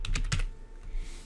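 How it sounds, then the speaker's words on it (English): Quick bursts of keystrokes on a computer keyboard while an essay title is typed in a word processor, a few close, crisp taps in an uneven rhythm, with no talk. "Next, I'm going to type the title of my essay."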